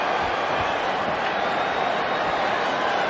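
A boxing arena crowd at a title fight, a dense steady roar of voices and murmur with faint cheering, continuous and loud without distinct peaks.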